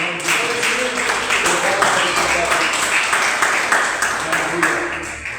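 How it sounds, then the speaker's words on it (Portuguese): Church congregation at a Brazilian evangelical service applauding together, a steady dense clapping that runs throughout at moderate loudness, with a reverberant hall sound. "Aplauda o Senhor pela vida, irmã."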